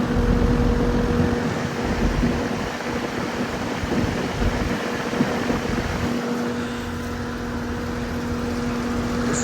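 A 2016 two-ton heat pump with a Copeland scroll compressor runs in cool mode, giving a steady, close whooshing hum with a constant low drone and no pauses.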